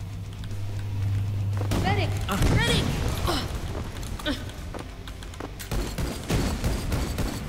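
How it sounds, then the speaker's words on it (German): Explosions from grenades in the Rise of the Triad shooter game burst repeatedly over busy game noise and music, with someone talking over the action. "Ja, schmeiß doch mit deinen Granaten um dich."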